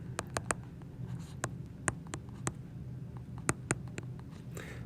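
A pen writes on a truss problem sheet in a quiet room, making a soft run of scratchy strokes and taps with short pauses between them, close and faint.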